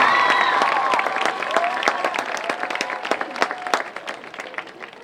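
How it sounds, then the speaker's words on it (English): Applause from a high school graduation commencement audience, steady dense clapping that starts loud and gradually thins and fades over several seconds, with a faint tonal sound lingering underneath. "Can we get one more round of applause for Charlotte and Esther?"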